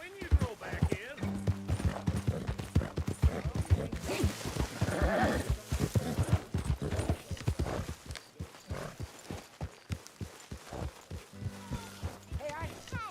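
Horse hooves clip-clop steadily at close range in the video game Red Dead Redemption 2, a rhythmic run of hoof strikes sounding under men's conversation.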